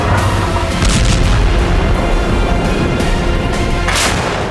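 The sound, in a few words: Russian howitzer artillery fire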